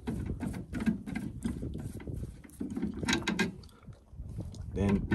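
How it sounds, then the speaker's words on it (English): Wrench turning a lock nut to break a TMB tuner muzzle brake free from a rifle barrel, giving close clicking and ratcheting metal mechanism sounds in irregular bursts, with no talk. "Fit the wrench over the lock nut, use it to break the TMB free, then turn the TMB off."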